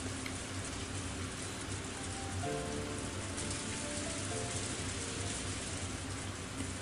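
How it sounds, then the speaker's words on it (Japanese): Rain beats steadily against a window in a rainy night scene of the Umineko visual novel, a soft, continuous patter at low volume with faint background tones. "無粋に窓を叩きつける雨音だけだった"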